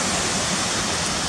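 Cotter Force waterfall roaring steadily, a broad continuous rush of falling water heard up close with no voices.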